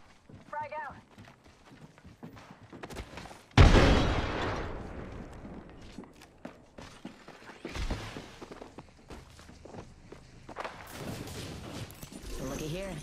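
A frag grenade goes off in Apex Legends as one sudden loud blast that fades into a rumbling tail, with footsteps, gear clatter and a voice talking in game before and after.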